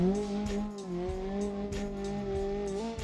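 A Peugeot 205 GTI driving in BeamNG.drive, its engine holding a steady droning note with slight pitch rises and dips, tyres scrubbing in short bursts, no talk.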